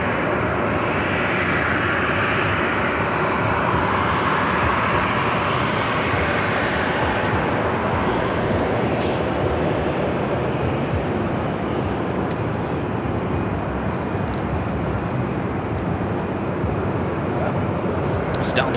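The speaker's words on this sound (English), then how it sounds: "Delta 737 lining up, 24 left." A Delta Boeing 737-900ER lining up on runway 24 left at Los Angeles airport, a loud, steady, broadband jet roar that fills the whole stretch without letting up.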